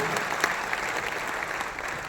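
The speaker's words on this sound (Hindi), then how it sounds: "मैं ये चाहता हूं दोनों हाथ मिलाकर बड़े कवि का तालियों से सम्मान करिए।" Audience applause honoring a poet at a Hindi poetry gathering, steady dense clapping throughout, close and fairly loud, with no talk over it.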